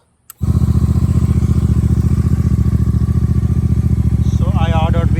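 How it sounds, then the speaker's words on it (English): A Royal Enfield Super Meteor 650 motorcycle starts with a sharp click and then settles into a loud, steady, thumping idle right up close, while a faint higher whine rises near the end. "So let's start this bike and check the indicator lights."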